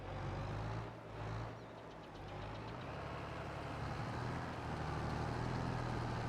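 Truck engines idling and rumbling in Farming Simulator 22, a steady low drone near a grain cart during field unloading, continuous and fairly quiet with slight swells.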